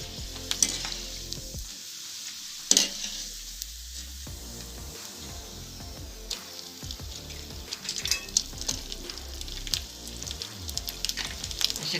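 Sabudana potato chakli fry in hot oil with a lively bubbling sizzle, near and continuous, marked by sharp clinks of utensils and pops as more dough goes in; no voices.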